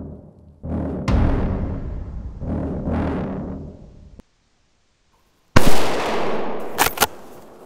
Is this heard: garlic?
no